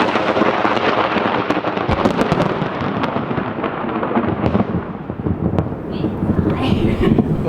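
A heavy, continuous rumble of thunder rolls over wind and rain, with crackling bursts along the way.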